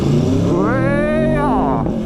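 A 2019 Aprilia Tuono Factory motorcycle engine revs hard under acceleration on a road, its loud steady drone climbing in pitch and then dropping back, heard close up and continuous throughout.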